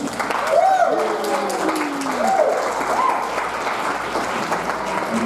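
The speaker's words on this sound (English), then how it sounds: "How about a round of applause for the best man?" Guests at a wedding reception applaud the best man after his toast, a burst of clapping under cheering voices that thins out toward the end.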